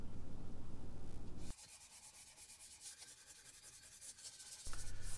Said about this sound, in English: I just sanded all edges and surfaces that were visible. Just a rough sanding to 320 grit